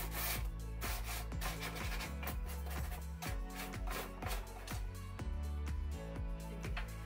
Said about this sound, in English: Let's grab a sanding block and just see what happens if we do that.